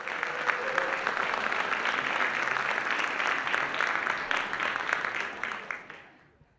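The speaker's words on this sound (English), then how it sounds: "How about another round of applause for those wonderful children?" An audience at a Celebration 2024 cultural gathering applauds children with sustained, even clapping, full and fairly close, holding steady before fading out over the last second.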